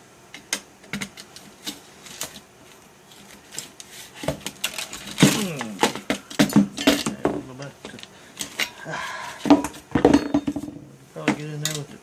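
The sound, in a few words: pry bar prying apart a computer during repair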